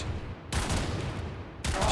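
Weapon fire in the video game Warframe comes as loud, dense bursts that start abruptly, pause, and resume, with no talking.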